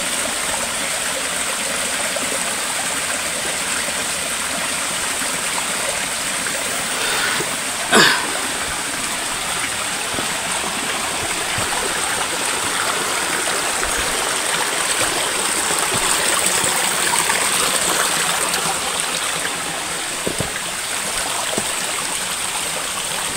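Water flows steadily in an outdoor stream, a continuous broadband rush throughout, with one brief sharp sound partway through and no talking.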